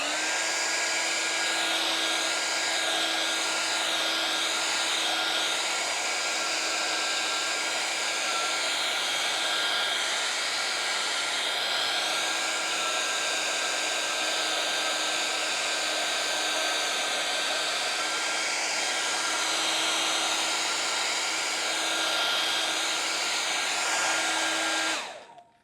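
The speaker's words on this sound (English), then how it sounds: "I'm going to blow dry this white so that when I lay that paintbrush there" A hair dryer blows steadily and loudly on white paint, a constant whining hum that runs unbroken for the whole stretch before cutting off at the very end.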